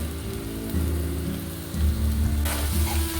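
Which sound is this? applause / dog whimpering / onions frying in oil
onions frying in oil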